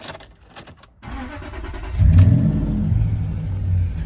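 A Range Rover fitted with a Flowmaster exhaust starts up after some faint clicks and settles into a loud, deep, steady idle with a slight rev, heard close by with no talking.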